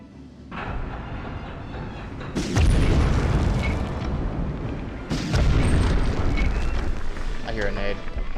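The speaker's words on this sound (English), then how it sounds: "It's bazooka time again." Two heavy bazooka blasts in the World War II shooter Medal of Honor, set in a V2 rocket plant, each a sudden deep boom with a rumbling tail, loud and close, the second following a few seconds after the first.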